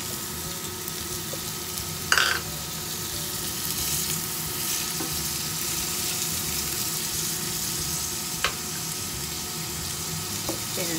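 Bacon frying in a pan gives a steady, loud sizzle throughout, with a couple of sharp clatters from the pan or utensil, one of them near the start.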